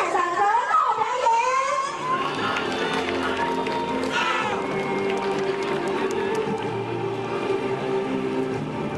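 An outdoor crowd at an army armored-forces 90th anniversary celebration bursts into sustained applause and cheering for a combat demonstration, a dense clapping roar that follows a brief voice at the start.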